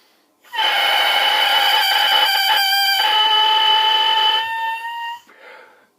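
A lone oboe reed blown without the instrument gives a loud, sustained, buzzing crow with bright harmonics, holding steady for several seconds before tapering off and stopping.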